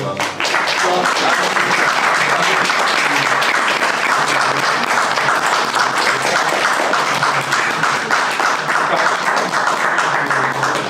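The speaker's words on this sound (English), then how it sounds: "let's just please give it up a big round of applause" A loud, dense round of applause from an audience at a grassroots community gathering, steady and close, filling the whole stretch without pause.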